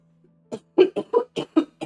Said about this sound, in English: It's a productive cough.